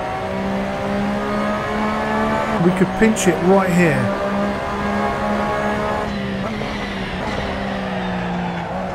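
A Porsche 911 RSR 2017 racing around Imola in Assetto Corsa, its engine droning steadily at high revs, with a brief run of shifting and squealing bursts midway and a voice talking over it.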